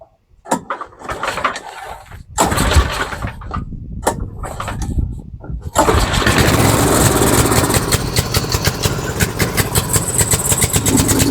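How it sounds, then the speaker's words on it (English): Snowblower engine cranking and catching with the choke on: sputtering, uneven pulls for a few seconds, then a loud, steady running roar that holds to the end. "All right, put the choke on."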